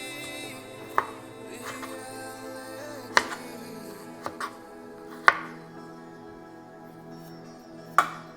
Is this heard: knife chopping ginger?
yes